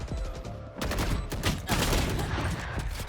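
Rapid bursts of gunfire from the tactical shooter Valorant during a replay at a college LAN esports event, loud and dense with overlapping shots and no voices.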